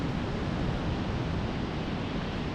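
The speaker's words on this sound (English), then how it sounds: "Oh, the waves are huge over here." Ocean surf rolls onto a Florida beach in a constant broadband wash of breaking waves and wind, moderately loud and unbroken, with no talking.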